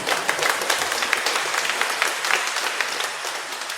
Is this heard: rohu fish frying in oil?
no